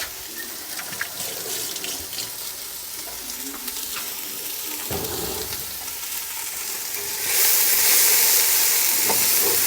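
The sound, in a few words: food sizzling in a pan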